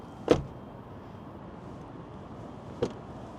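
Two solid car door thunks from a 2000 Toyota Crown Royal Saloon, one near the start and a softer one a few seconds later, with a quiet interior hush between.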